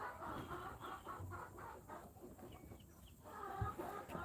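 Chickens cluck softly inside a rooster coop on a farm, a faint, continuous murmur of clucks and calls with no talking.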